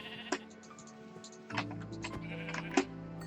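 A sheep in a Minecraft-style video game bleats a few times, short nasal cries spread across a few seconds, heard faintly over quiet clicking like keyboard typing.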